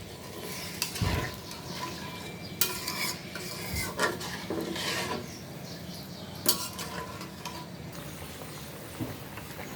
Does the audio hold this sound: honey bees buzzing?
no